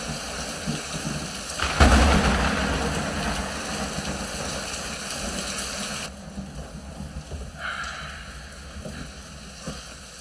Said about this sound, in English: Get out of the rain, kid.